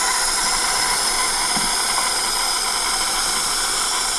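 A propolis steam inhalation apparatus running in an apitherapy room, giving a loud, steady hiss of steam that holds unbroken throughout.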